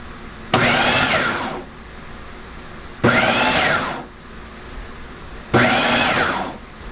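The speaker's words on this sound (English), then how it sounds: "I'm gonna go ahead and process this just for a moment to get" A food processor runs three short pulses, each about a second long with brief pauses between, blending cheese spread ingredients. Each pulse is a loud, close, whirring motor burst.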